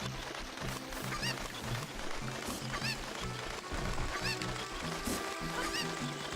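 Cucco chickens clucking and squawking in The Legend of Zelda: Ocarina of Time, a busy run of bird calls over looping game music, steady and moderately loud throughout.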